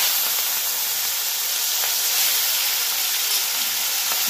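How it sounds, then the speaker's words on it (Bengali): Prawns frying in hot oil for a Bengali potol chingri curry, heard as a steady, bright hiss and sizzle that stays even throughout with no talking. "গরম হয়ে গেছে, এবার আমি চিংড়ি মাছগুলো ভেজে নেব।"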